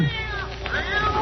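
A cat gives a drawn-out, wavering meow with a rising and falling pitch. It plays over steady background noise in a spooky mystery-game scene. Faint voices may be present.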